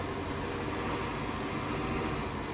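A tractor engine drones steadily in a farming video game, a constant low rumble hauling added weight on the rear end, with no other sounds.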